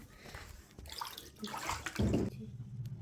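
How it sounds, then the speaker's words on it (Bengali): Water is sloshed and stirred in a basin being prepared for a home manicure and pedicure, a short close splashing swirl that swells briefly in the middle, with no talking. "এখানে চলছে জল মেশানো"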